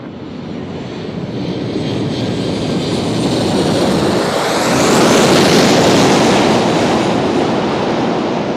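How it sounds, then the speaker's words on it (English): A passenger jet arriving from Dallas at Nashville International Airport roars overhead, a loud sustained engine rumble and whine that swells toward the middle and stays strong to the end. "So here comes the plane from Dallas"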